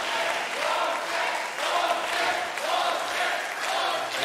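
A talent-show audience in Bulgaria applauds and cheers for more, a dense wash of clapping and crowd noise with rhythmic surges, heard from a distance and continuing throughout.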